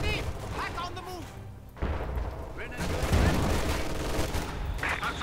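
Gunfire bursts in the World War II strategy game Company of Heroes 2, rattling and booming continuously through the whole stretch beneath overlapping unit voice callouts.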